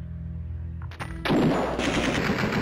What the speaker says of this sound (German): wie kann der denn schneller schießen als ich? Ich hab eine verdammte Tommy Gun.